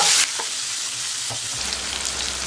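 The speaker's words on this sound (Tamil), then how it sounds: "வெங்காயம் வதங்கிடுச்சு." Onions sautéing in hot oil with garlic, cumin and asafoetida for a Tamil brinjal, drumstick and mango kara kuzhambu, a continuous close hissing sizzle with a soft stir or two, alone without talk.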